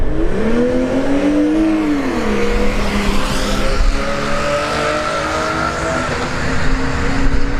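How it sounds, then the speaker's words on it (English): Camaro RS and BMW Z4 launching in a drag race, engines revving loudly with rising gear sweeps and a brief tire squeal, close at first, then receding down the strip. "Camaro RS, I believe. Yep, RS in the right lane. Z4 in the left lane."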